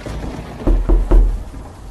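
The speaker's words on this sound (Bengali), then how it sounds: "রবিনের ঘুমটা ভেঙে গেল ঠক ঠক শব্দ শুনে" Knocking on a door as a cartoon sound effect: three hollow, evenly spaced knocks, close and fairly loud, over a quiet background.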